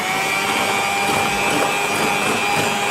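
Sugar and oil lightly beaten together for chocolate cupcake batter, an electric mixer whirring steadily and close, with a constant motor drone and a bright high whine and no talk.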